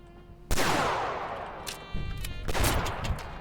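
Heavy shotgun blasts in the video game Blacktrace, a sharp loud report followed by a long decaying tail, then a second burst of shots and rattling impacts a second or so later.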